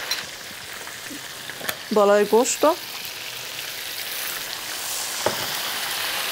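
Chicken, tomatoes and turmeric fry in a pan with a steady sizzle. A short burst of stirring clatters near the start, and a voice speaks briefly over it.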